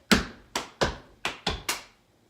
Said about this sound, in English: another hard thing is hitting your leg and hitting your chest at the same time